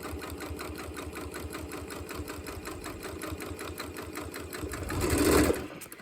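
A sewing machine stitches quilt binding with a fast, steady, rhythmic whir and clatter up close. The motor swells briefly louder near the end, then eases off.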